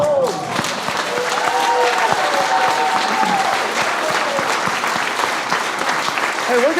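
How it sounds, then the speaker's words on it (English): Applause from a church service audience fills the room, a thick continuous clatter of many hands with cheering voices rising above it, loud and sustained throughout. "let's do one more round of applause"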